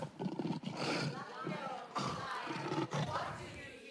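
A group of voices imitates a brown bear's roar in long, rough, drawn-out bursts at a teaching convention, loud and close.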